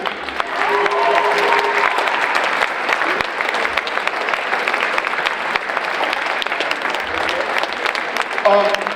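An audience at a high school farewell concert claps and cheers in sustained, dense applause for several seconds, with voices mixed in the crowd noise.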